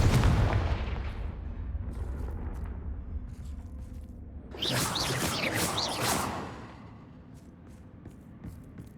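A Confringo fire spell from the Hogwarts Legacy video game booms with a heavy low rumble that fades, followed by a bright crackling whoosh burst midway, loud and close with no talking.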